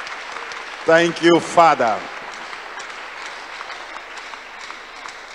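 A church congregation claps during a testimony service, a low, continuous patter of hands running beneath a short spoken thanks.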